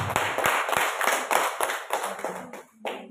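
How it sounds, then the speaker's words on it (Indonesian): A brief round of clapping for a teacher at a school teachers' learning-community session, a small group's hands beating in uneven pulses that taper off near the end, with no voices over them. "Tepuk tangan sekali lagi untuk Ibu Sinta."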